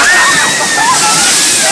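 Rushing river rapids slosh and splash heavily over a raft on a Khali River Rapids ride, a loud, dense wash of water filling the whole moment.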